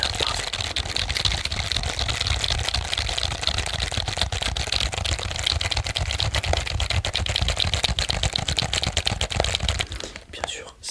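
Dense, rapid typing on an inexpensive wired computer keyboard, a close, crisp clatter of keystrokes running continuously alongside soft whispering, then briefly thinning at the end.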